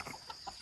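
Chickens cluck in short bursts outside their chicken tractor, a few quick calls close by over a steady background hiss.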